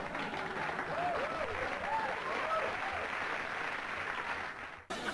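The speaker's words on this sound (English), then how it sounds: "just clapping." Audience clapping at a comedy show, a steady crowd of hands applauding at moderate level, with a faint musical tone weaving through it, cut off sharply near the end.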